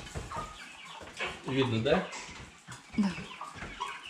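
Broiler chickens crowded in a cage cluck and call close by, a busy flock of soft irregular clucks with a louder squawk midway, while a man and another person talk over them.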